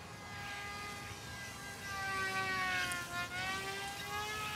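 A small delta-wing RC micro jet model plane makes a fast pass, its high whining engine tone swelling and bending in pitch as it approaches and passes, fairly loud against outdoor background noise.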